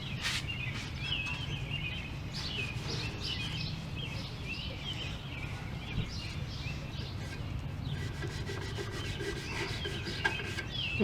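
Brake caliper slides on a Ford F150 being scrubbed clean, a steady rasping rub that runs continuously and close, with faint chirping in the background.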